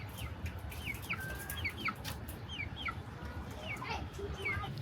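Chickens cluck and chirp repeatedly in short, bright bursts, with a low background rumble underneath.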